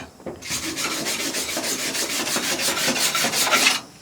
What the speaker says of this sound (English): I should probably just grind out those tacks